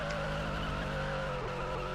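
Tires skidding across grass in the Roblox racing game Just Daytona, a steady, loud car engine drone with scrubbing tire noise running continuously for about two seconds.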